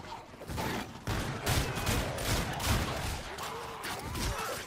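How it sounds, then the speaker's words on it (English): Gunfire in the Call of Duty Infinite Warfare Zombies mode, Zombies in Spaceland, with a dense continuous barrage of overlapping shots and explosion-like bursts, loud and sustained throughout. "And then we turn around and shoot."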